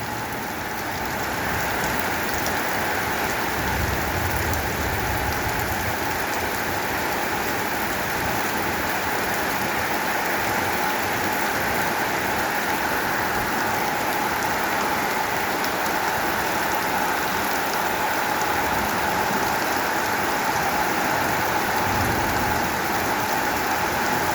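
Heavy rain pours steadily in the evening at a Thai temple in Ban Loet Maitri, a dense, unbroken hiss of drops on surfaces that stays loud and even throughout, with no voices.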